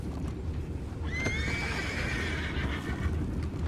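A horse in a video game, Red Dead Redemption 2, lets out a clear, rising whinny over a steady rumble and soft hoof clops, fairly close.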